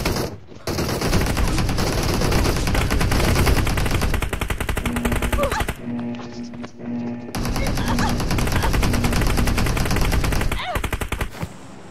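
Automatic weapon fire from PUBG Mobile gameplay rattles in loud, dense rapid bursts nearly throughout, with a brief lull midway before the shooting resumes.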